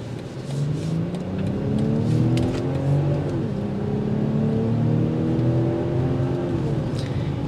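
BMW X7 SUV with a twin-scroll turbo engine pulling away on a road, a continuous engine drone rising in pitch through several gear-like sweeps, steady and fairly loud from inside the cabin with no talking.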